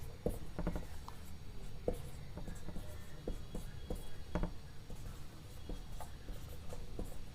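Pen writing notes during a lesson, close scratchy strokes and taps on paper in an irregular rhythm, fairly quiet with a faint room hum behind.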